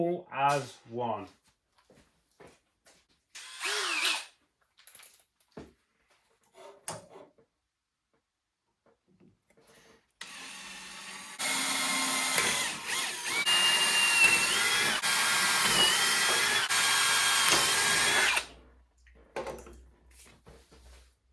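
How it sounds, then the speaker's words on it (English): A steady, loud whirring power drill bores through metal for several seconds while building a Honda VTEC mini spaceframe chassis, preceded by scattered clicks and brief voices, then fading to quieter handling noises. "we'll drill them all as one."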